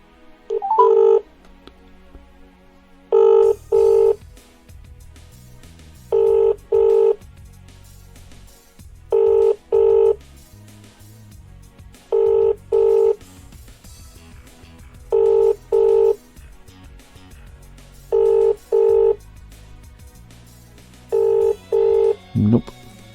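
A telephone rings out on a call to an old classified advert number, giving loud paired double rings repeated at even intervals, with a short sound at the very end.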